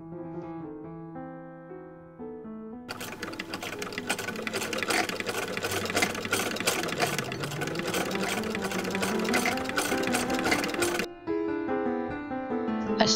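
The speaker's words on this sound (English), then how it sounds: "I start with sewing down the three velvet ribbons on the sleeve cuff." A sewing machine sews velvet ribbons onto a robe sleeve cuff, a continuous close whirring run of about eight seconds, with background music before and after.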